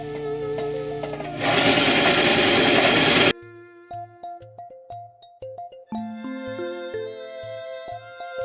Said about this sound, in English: I'm gonna sew along the burlap and along the edge of the runner.